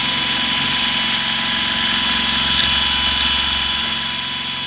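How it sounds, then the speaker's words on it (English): A steady, loud motorized whir with a constant high tone from a power drill held at full speed, running continuously throughout, while cleaning a BMW E46. "I was able to put the drill on it, and max speed."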